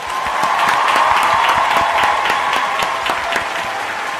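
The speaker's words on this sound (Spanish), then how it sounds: "le damos un aplauso virtual y real a Lucho Fabri" Studio audience on a TV talk show applauding to welcome a guest, loud dense clapping that holds steady throughout.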